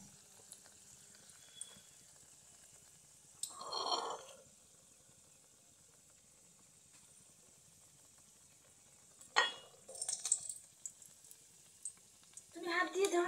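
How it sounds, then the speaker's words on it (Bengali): Oil pitha cakes frying in a pan at home, a soft steady sizzle with a few louder bursts of crackling and stirring, short bits of talk nearby. "তেলের পিঠা বানাচ্ছি"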